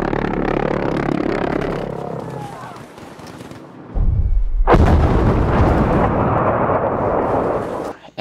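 A pulse jet engine runs at full throttle with a loud, rough, roaring drone that drops away briefly, then comes back with a sharp boom and keeps blasting at close range.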